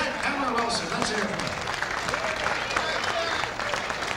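Crowd at a boxing match applauding Marion "Jackhammer" Wilson after his fight with Vaughn Bean, a dense sustained wash of clapping and cheering with an announcer's voice running over it.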